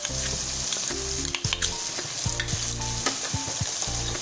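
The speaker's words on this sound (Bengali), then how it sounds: "এগুলোকে দিয়ে আমি এখন ভালো করে একটু কষিয়ে নেব।" Onion paste with ginger-garlic paste sautéing in a pan for a veg dum biryani, a steady close sizzle that runs the whole time with clinks of a stirring utensil scattered through it.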